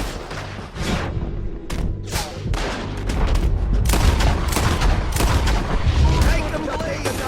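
Gunfire from a shootout in the video game Red Dead Redemption 2, with dense, rapid shots and booms cracking repeatedly throughout, loud and close, with voices shouting in between.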